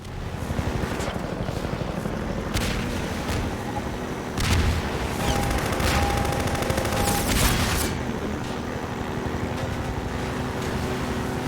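Rockets and gunfire in the video game Half-Life 2: a steady run of loud, rapid blasts and rattling shots, with a few heavier booms standing out over a constant background of combat noise.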